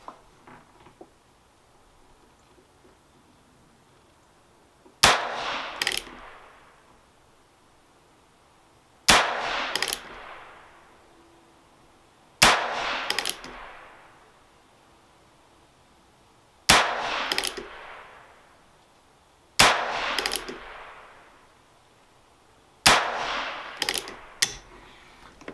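Seven sharp, loud gunshots from a Heritage Rough Rider 16-inch revolver firing Winchester rounds, spaced a few seconds apart, each with a ringing decay, against a quiet outdoor background.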